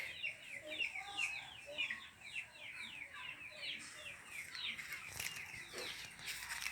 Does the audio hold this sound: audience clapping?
no